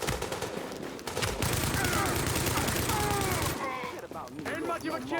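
A light machine gun fires in bursts in a video game, loud rapid rattling rounds, with a player talking over the shooting.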